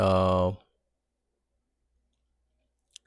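A voice briefly speaks, then after a silent pause comes a single short, faint click from a computer mouse pressing a run button.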